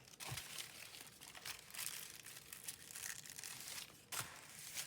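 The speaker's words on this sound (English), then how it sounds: "I'm just going to tear off a piece of both" Paper bag crinkling and tearing near the microphone, with soft rustling throughout and a few sharper rips, one clearly louder near the end.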